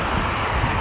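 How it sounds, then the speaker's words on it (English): Wind buffeting a microphone outdoors on a breezy, cloudy June day, a loud continuous rushing roar with no pauses over the whole short moment. "Yep, windy here."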